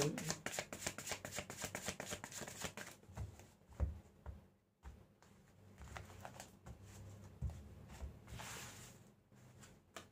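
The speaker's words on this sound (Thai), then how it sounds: "อาจารย์ขออนุญาตสับไพ่นะคะ" Tarot cards being shuffled close by, with quick riffling patters at first, then slower soft slaps and shuffles, faint and alone.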